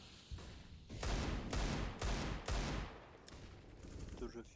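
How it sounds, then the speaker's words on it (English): Pistol fire rings out in a Counter-Strike professional tournament grand final, with several loud rapid bursts of shots, followed by quieter distant pops and in-game noise under commentary. "Actually, hearing these pistols early is good."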